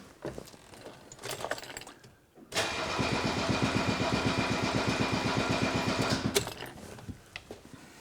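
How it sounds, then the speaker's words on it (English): A starter cranks an engine over for a compression test on cylinder 3 of a car returning home after 20 years, a loud, steady rhythmic chugging of about four seconds, with quieter workshop clatter before and after. "I'm just going to crank it over and see what compression we have now."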